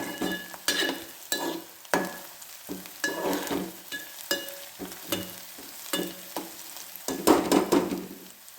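Onions cooked to a pinkish colour sizzle in a pan for a ridge gourd bhaji, with repeated sharp spatula scrapes and stirs coming in an uneven rhythm, close and clear, with no talk.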